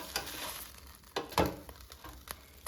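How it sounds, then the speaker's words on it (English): Bubba burgers being flipped in an air fryer basket, with a faint background sizzle broken by a few sharp close knocks and scrapes of the metal basket. "let's flip the burgers over for more even cooking"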